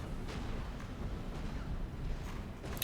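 Tanks trading cannon fire in the real-time strategy game Supreme Commander: Forged Alliance, a dense low rumble of booms and blasts rolling steadily underneath with occasional sharper bursts.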